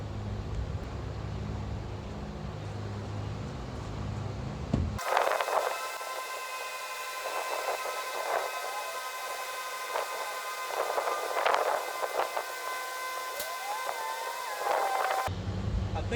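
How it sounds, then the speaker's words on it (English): Air suspension compressor pumping up a heavily loaded vehicle to bring it level, a steady mechanical hum with tonal whine running for about ten seconds before cutting off, set against quieter background noise. "So we're going to see if it actually pumps this thing up and rides level now."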